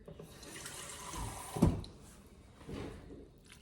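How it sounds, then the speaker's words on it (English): A quarter cup of water pours into a bowl of brownie mix in a kitchen, a short soft splash followed by a quieter second trickle, close and fairly faint. "Quarter cup of water."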